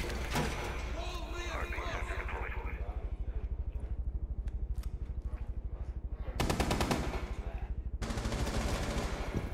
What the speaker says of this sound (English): I'm being shot.